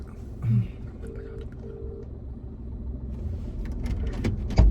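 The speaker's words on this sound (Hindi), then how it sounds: "लो भाई मिला दिया फोन" A telephone being dialed gives two short, faint electronic tones in quick succession over a low, steady background rumble, with no voices heard.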